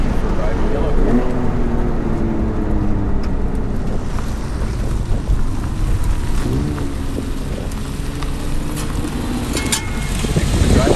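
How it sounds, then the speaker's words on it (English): A yellow 2006 Porsche 911 Carrera S (997) on a drive, heard as a steady low engine drone under heavy rushing wind and road noise, continuous and fairly loud throughout. "I'm excited now to take you for a ride in yellow car"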